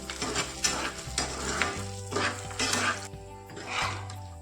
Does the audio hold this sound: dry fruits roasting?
yes